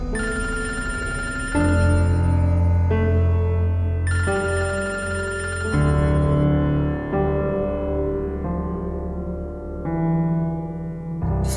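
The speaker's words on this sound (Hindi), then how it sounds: "फोन क्यों नहीं उठा रहे हो?" A telephone rings on and on without being answered, a loud, steady repeating ring tone that fills the whole stretch with no voices over it, inside a Pakistani drama scene.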